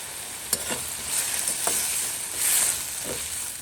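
Green chilies fry in butter in a pan with a steady close sizzle, while a few soft scraping stirs come through the bubbling.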